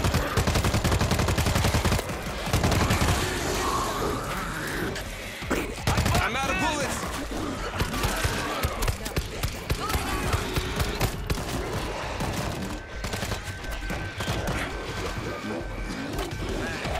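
Gunfire from the zombie shooter World War Z in New York co-op play: rapid bursts and repeated shots over loud game action, with a player talking over the noise.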